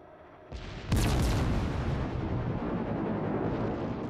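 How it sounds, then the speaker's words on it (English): Heavy gunfire in an online shooter game slams into nearby rock, a sudden loud blast followed by a sustained, dense rumbling roar of impacts that stays loud to the end. "trying to shoot me, hitting the rock"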